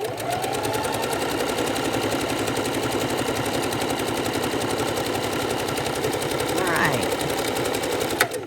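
Close and steady, a sewing machine hums and chatters while stitching around an appliqué heart on a quilting project, running continuously from start to finish with a faint brief tap near the end.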